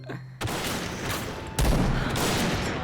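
Dense rapid gunfire from the player's own weapon in Point Blank, heavy and close, with one break and then a renewed, louder burst that runs to the end.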